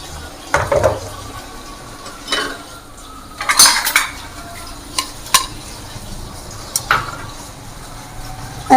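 Cooked, softened tomatoes being peeled in a home kitchen, heard as scattered clinks of utensils against pots and dishes with light handling noises, sparse and moderately loud, no talking.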